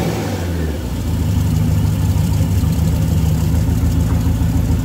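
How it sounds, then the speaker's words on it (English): A 1999 Nautique boat engine runs steadily at a low rumbling idle, loud and close, with a slight change in pitch near the start. "But let's start the engine and make sure it's all good."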